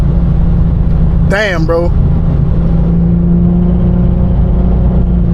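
A 700-horsepower supercharged Infiniti G37 drives a back road with a loud, steady low engine drone, a short rising rev burst cutting through near the start as a man exclaims briefly.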